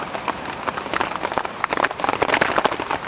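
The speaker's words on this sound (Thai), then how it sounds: "ฝนตก" Rain patters steadily on a campsite tent nearby, a dense hiss of drops with brighter individual taps scattered through it.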